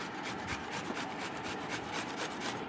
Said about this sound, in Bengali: এরপরে শশাগুলো নেব, এটাকে নিচ্ছি এরকম করে ঘষে নিচ্ছি